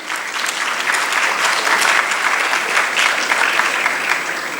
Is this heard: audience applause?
yes